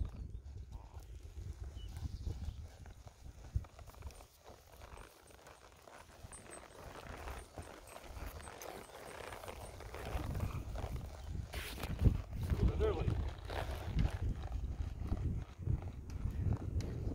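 A leased horse trots around an indoor barn arena, producing a muffled, rhythmic run of hoofbeats on soft footing that grows louder and closer over time, with faint background noise and no clear talking.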